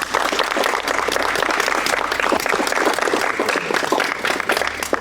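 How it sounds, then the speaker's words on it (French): An audience claps after a speech in a dense, steady burst of applause that holds at an even loudness throughout. "on peut l'applaudir pour de vrai"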